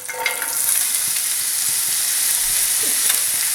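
Coarsely chopped onions hit a hot pan for beef curry, bursting into a loud, bright, continuous sizzle that holds steady and close with faint stirring scrapes underneath.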